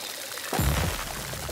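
Watering a freshly planted seed in the game Grow: Song of the Evertree, a soft poured-water splash that starts suddenly partway through and keeps going steadily to the end, with nobody talking.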